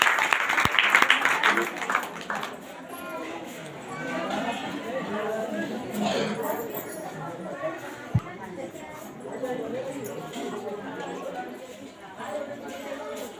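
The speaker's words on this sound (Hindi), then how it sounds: "परमेश्वर को जोरदार तालियों से धन्यवाद करिए" A church congregation at a prayer meeting applauds in thanksgiving, a burst of clapping at the start that fades into lighter scattered claps under ongoing chatter and a leading voice.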